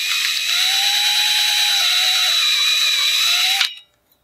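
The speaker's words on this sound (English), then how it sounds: "you need to drill a little bit of a hole." A power drill whines steadily at high speed for several seconds, boring through an aluminum porch railing post cover, then cuts off abruptly.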